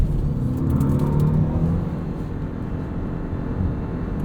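A 2023 Mitsubishi Outlander PHEV on the move with its petrol engine running, giving a low, steady rumble and whir from inside the cabin, moderately loud and unbroken, with no talking.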